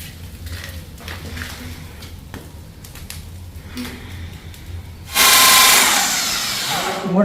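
A power drill whirs briefly and loudly near the end, after a stretch of quieter clattering and handling noises.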